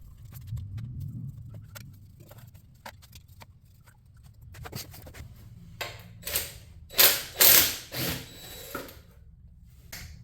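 A hand ratchet works loose the oil pan bolts on a ruined engine in a shop also restoring a 1935 Chevy, giving bursts of close, sharp clicking strokes that grow louder toward the end over a low background rumble.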